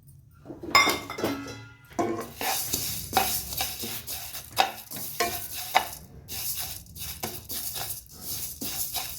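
Whole spices, starting with coriander, scraping and rattling in a dry kadhai as they're stirred, with repeated clinks of a metal spatula against the pan.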